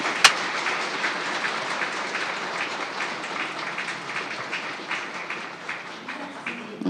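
An audience at the closing session of a business forum for global peace gives sustained applause, the dense, even clapping of a large crowd continuing for several seconds.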